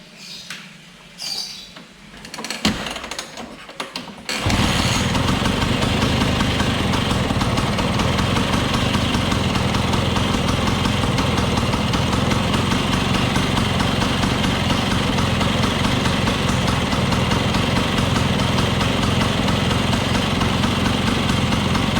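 A Vespa P150XE scooter engine starts after a few kick attempts and catches at about five seconds, then settles into a steady, loud, rattling two-stroke idle that runs unbroken to the end.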